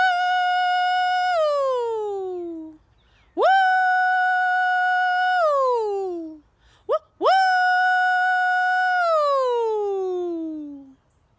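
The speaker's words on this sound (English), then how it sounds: "In Sampson County, some people called for water like this." A water-calling holler from Sampson County: three long, loud sung hollers, each a high sustained tone sliding down at the end, with a short yelp before the third, no other voices.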